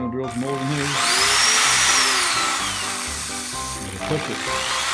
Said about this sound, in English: gonna drill some holes in his